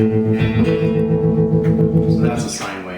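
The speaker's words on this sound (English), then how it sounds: "I will turn on my amps tremolo here just for a comparison." A guitar amplifier's built-in tremolo pulses a sustained, held guitar chord in a steady, even throb. The sound is loud and close, and a faint pluck of new notes enters near the end.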